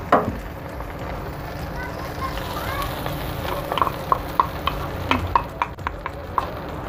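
Evaporated milk and Nestle cream being stirred into sautéed onions in a pan for creamy mixed vegetables, a steady low sizzle with repeated soft scraping and clinks of a utensil, close and continuous.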